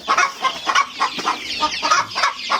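Chicks in a growing pen peep and cheep continuously in overlapping high calls, close and moderately loud, with no talk.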